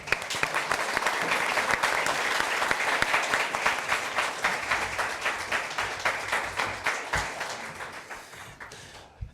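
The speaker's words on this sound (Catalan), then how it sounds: "L'Antonio Contreras, un aplaudiment per ell, sisplau." A studio audience at a live show applauds loudly and steadily, the dense clapping gradually thinning into scattered individual claps toward the end.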